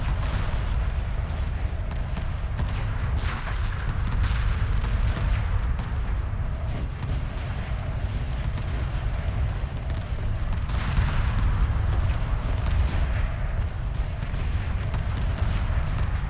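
Frigates in Homeworld 2 Remastered launch missile volleys as a steady, dense rumble of muffled booms and whooshes that keeps going without a break. The barrage stays at a fairly constant moderate level.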